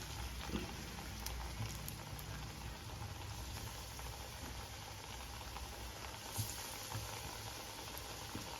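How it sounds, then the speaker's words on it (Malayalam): Vadas frying in a pan of hot oil make a soft continuous sizzle and bubbling hiss, faint and steady throughout with no one speaking. "ഇനി ഓരോ വടി നമുക്ക് ഫ്രൈ ചെയ്തെടുക്കാം"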